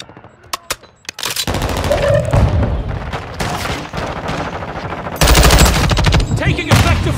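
Automatic gunfire from the 556 Icarus weapon in Call of Duty Modern Warfare 2 multiplayer: a few sharp single shots, then loud, close sustained bursts with brief pauses between them.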